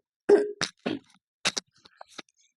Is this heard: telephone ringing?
no